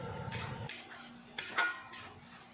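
A utensil stirs spices with sugar in a pan, giving several short metallic scrapes and clinks in an uneven rhythm, close and fairly quiet with no voices.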